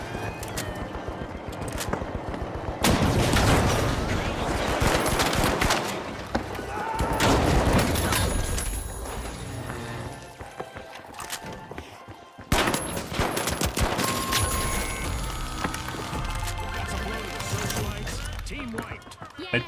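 Turret gunfire in the shooter game The Finals, dense bursts of rapid automatic fire that pause briefly and resume, loud and close, with a voice speaking over parts of it.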